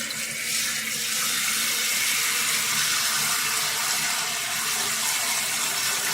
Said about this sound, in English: is put water in it